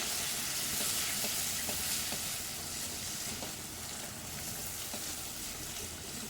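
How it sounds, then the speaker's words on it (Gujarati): Chopped tomato with salt sizzles and fries in a pan for Gujarati dal fry, a steady close crackling hiss with small pops throughout, no voices. "ટામેટાં સોફ્ટ થાય ત્યાં સુધી શેકી લેવાના"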